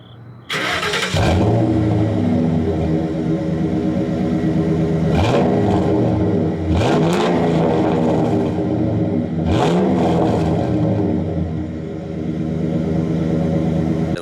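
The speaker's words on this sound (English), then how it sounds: "when you get an exhaust on these cars, they sound great" A Ford Crown Victoria engine starts and idles with a deep burbling exhaust, then is revved several times, each rev rising and falling; loud and close.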